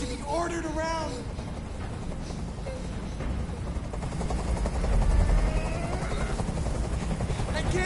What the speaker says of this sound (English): can't stand that noise anymore! Tell that helicopter to get out of here!